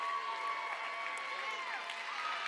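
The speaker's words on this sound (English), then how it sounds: "give yourselves a round of applause" Audience at the Dancing with the Spartanburg Stars 2019 event applauding, a steady wash of clapping and crowd noise filling the room with a few faint voices mixed in, continuous and even in loudness throughout.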